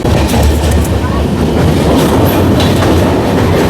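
The Kanchankanya Express runs through a station near forest without stopping, its wheels rumbling and clattering steadily over the rails, loud and close, with a brief high squeal partway through.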